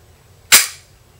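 An HK P30L pistol is dry-fired on a snap cap, giving one sharp, loud metallic click. The click decays quickly in otherwise quiet surroundings.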